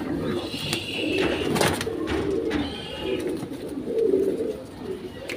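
Indian high flyer pigeons cooing close by, a run of soft repeated coos over low background noise, with faint voices mixed in.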